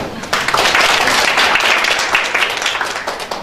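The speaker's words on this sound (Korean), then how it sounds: "우리 안종백 교수님 크게 박수 한번 해줍시다" Sustained, loud applause from a seminar audience at an international futures society event, clapping for a professor; dense and even from start to finish, with no talk over it.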